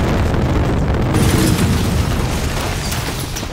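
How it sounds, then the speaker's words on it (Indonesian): Explosion sound effect: a dense, roaring blast of broadband noise that stays loud throughout and fades only slightly toward the end. "seketika ledakan pun terjadi menewaskan semua orang di sana"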